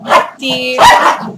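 A dog barks close by, two sharp barks with a brief whine between them, loud and mixed in with a man's speech.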